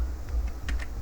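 Quick keystrokes on a computer keyboard while typing text in MS Word: four or five light, close clicks in a brief burst over a steady low hum.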